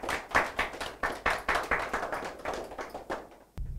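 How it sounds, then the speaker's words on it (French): Hands clap in a short round of applause for two teams at a design contest; several people clap fairly quickly and unevenly nearby, tapering off after a few seconds. "on applaudit pour ces deux équipes"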